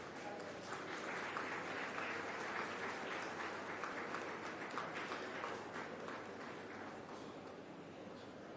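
Steady audience applause fills a large inauguration hall at a design week event, a dense sustained patter of many hands clapping at an even level throughout, heard from a distance without voices over it.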